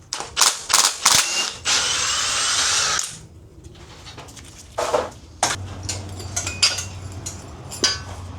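A power tool spins the strut top mount off a VW Golf GTI in short loud bursts, with one sustained whirring run in the middle, then quieter clinks and mechanical handling.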